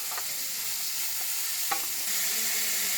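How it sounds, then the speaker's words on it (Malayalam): Onions sautéing in hot oil in a pan for chicken cutlets, a soft continuous hiss that swells slightly near the end, with a few light scrapes of a spoon stirring them. "സവാള ഒന്ന് നന്നായി വഴറ്റിയെടുക്കണം."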